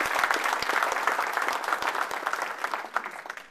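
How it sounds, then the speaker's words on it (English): A room full of people applauding at a public event with a congressman, brisk and fairly loud clapping from many hands that holds steady throughout, a few sharp individual claps standing out. "Let's give them a round of applause."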